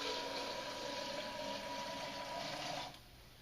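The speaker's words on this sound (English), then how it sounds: "carefully I'm going to pour some water" Water poured steadily into a laboratory beaker as a solvent, a continuous broad rushing splash that holds for nearly three seconds before cutting off.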